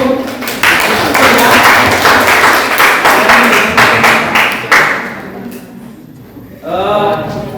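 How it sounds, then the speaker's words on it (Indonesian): A crowd at a gathering gives a burst of applause, dense and loud clapping lasting several seconds before tapering off, after which a voice speaks briefly. "aplaus dulu"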